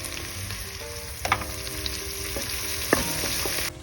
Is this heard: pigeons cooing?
no